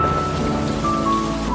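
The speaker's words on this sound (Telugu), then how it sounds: "సడన్ గా ఏంటి ఇంత వర్షం పడుతుంది?" Heavy rain pours in a Telugu drama scene as a dense, steady hiss with a low rumble beneath it. It is loud and continuous with a faint tonal line over it and no speech.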